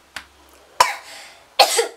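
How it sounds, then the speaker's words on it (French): A few short, harsh coughs come in separate bursts against a quiet background, the last one a bit longer and rougher. "Excusez-moi, je vais tousser."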